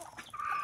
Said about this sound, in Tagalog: Mga manok na to eh.